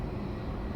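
Boeing 757-200 jet airliner engine at a San Diego airport, a steady broadband roar with strong low rumble, continuous and fairly loud throughout the short span with no talk.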